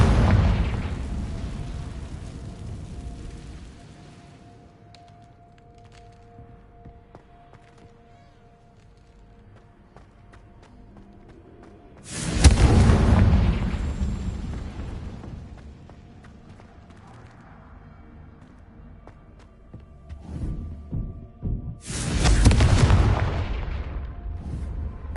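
Confringo fire spell blasts in Hogwarts Legacy: two loud, booming explosions several seconds apart, each a sharp burst that rolls off into a long rumbling decay, with quieter crackles and game ambience between them.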